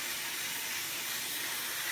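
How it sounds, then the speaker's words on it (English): A steamer hisses steadily while heating clear bra paint protection film on a car, a continuous, close, bright rush of steam with no speech. "So I get a little bit of steam, some heat, warm that up."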